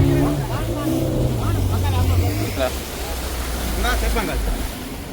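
Sea waves breaking on the shore along a coastline in northern Sri Lanka, a broad steady wash of surf beneath a low engine-like rumble, with someone talking over it.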